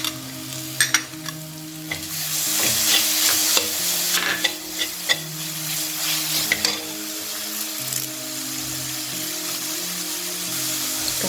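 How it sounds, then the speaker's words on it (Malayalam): Crushed ginger, garlic and green chili fry in a pan for beef cutlets, a steady loud sizzle punctuated by frequent scraping stirs and clicks of the spoon, with a faint tonal hum beneath and no speech. "ഇനി ഞാൻ ഇതിലേക്ക് ഇഞ്ചിയും വെളുത്തുള്ളിയും ചതച്ചതും പച്ചമുളക് കൂടെ ഇട്ട് കൊടുക്കുകയാണ്."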